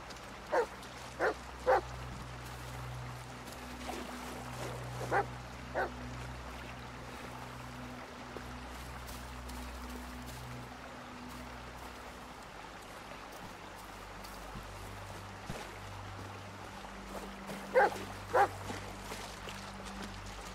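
In the Blair Witch video game, a dog barks in short, sharp bursts, a quick cluster near the start and another toward the end, over a low ambient drone and faint outdoor background.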